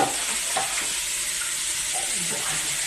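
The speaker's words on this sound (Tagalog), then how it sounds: "Halo-haloin na natin siya para hindi masunog ang sibuyas bawang saka pati yung karne natin." Onion, garlic and local beef sautéing in a pan while being stirred, a steady close sizzle with soft scraping strokes of a spatula running through it.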